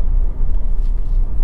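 A car rolls along a road with a pothole, producing a steady low rumble of engine and tire noise from inside the cabin, close and continuous with no talking.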